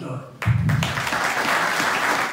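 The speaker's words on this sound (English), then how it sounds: "you deserve a round of applause." Applause from the crowd at a Veterans Day ceremony at the Wayne County fairgrounds breaks out after a brief moment of quieter sound and continues steadily, moderately loud, with voices faintly mixed in.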